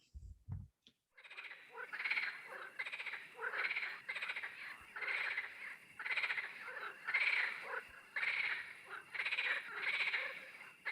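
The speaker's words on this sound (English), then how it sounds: "who let the frogs out? Ribbit, ribbit, ribbit." A chorus of frogs croaks in loud, regular pulsing bursts, repeating about every second after a brief thump at the start. There are no voices.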